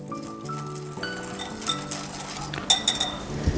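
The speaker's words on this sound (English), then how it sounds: "so just whisk this all together" Cornstarch and a pinch of salt whisked together in a bowl: bright clinking and tapping of the whisk against the bowl, irregular strokes up close, with a few sharper knocks toward the end.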